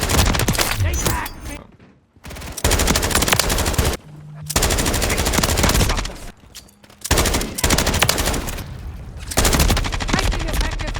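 Sustained bursts of automatic gunfire from Call of Duty Modern Warfare 3 fill the mix loudly, broken by a few short pauses, with faint voices underneath.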